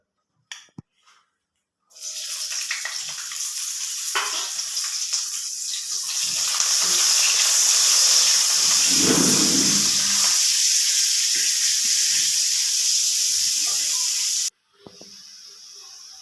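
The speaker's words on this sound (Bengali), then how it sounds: "এই যে চিংড়িটা, পেঁয়াজটা এরভাবে কেটে নিয়েছি, এটাকে একটু ফ্রাই করে নিচ্ছি।" Shrimp and onion frying in a pan, a loud steady hiss that starts abruptly, runs for about twelve seconds and then cuts off.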